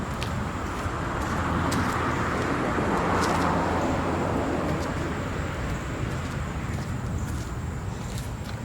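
Abandoned 1982 Nissan 720 King Cab mini truck, needing carburetor tuning, rolling in gear with a steady broadband engine and road rumble, continuous and fairly loud from inside or nearby.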